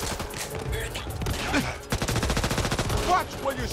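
Rapid gunfire rattles through a Back 4 Blood match, a dense fusillade of sharp shots in quick bursts that grow into steady automatic fire, with voices talking over the shooting.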